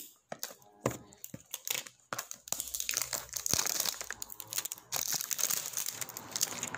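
Plastic packaging of a Sunisa face powder being torn and opened by hand, with irregular bursts of crinkling, crumpling and tearing at close range, fairly quiet, with short pauses between handlings.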